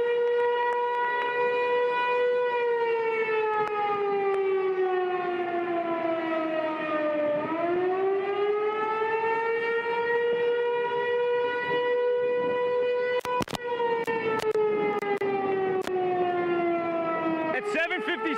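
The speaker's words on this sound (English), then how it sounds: "this tornado siren just started going off" A loud tornado siren wails continuously during heavy rain, its pitch slowly falling and rising in long sweeps, with a few sharp clicks near the end.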